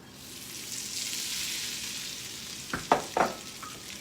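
Breadcrumbs toasting in hot oil in a pan over medium heat, a steady soft sizzle followed by a few sharp scraping stir-and-toss bursts near the end.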